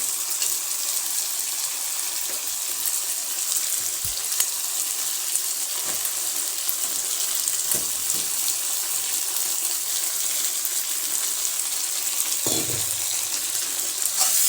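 Potatoes sauté in a pan with a loud, continuous sizzling hiss that stays steady throughout, with an occasional soft clunk, close by and no talking.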